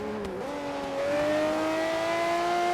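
A Lamborghini Reventón V12 engine roars close up, pitch climbing steadily as it revs hard and then holds a loud, raw, sustained howl with no voices over it.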